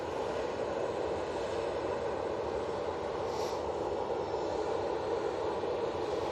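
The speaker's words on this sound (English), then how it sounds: "we do have the TAP Express E190. It's coming in from Lisbon" A TAP Express Embraer E190 airliner inbound from Lisbon on approach to Manchester Airport, a steady distant roar of jet engines holding even in loudness throughout, with no talk.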